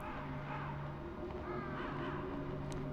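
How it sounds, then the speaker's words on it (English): Ravens caw from the Metal Gear Solid video game, several harsh calls in a row above a steady low hum of ambience. "They're not crows, they're ravens."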